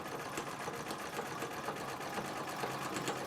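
A Singer 66 treadle sewing machine in a parlor cabinet runs steadily, its needle and mechanism giving a fast, even rhythmic clatter close by with no talk over it.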